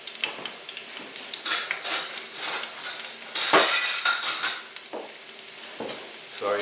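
Metal tongs clatter and scrape against a pan over a steady, crackling sizzle of frying rosemary, with a few sharper clanks standing out.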